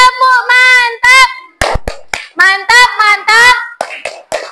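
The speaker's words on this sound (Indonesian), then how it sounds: "kasih tepuk tangan dulu" A group of children chant in rhythm, broken by a few sharp hand claps in unison partway through.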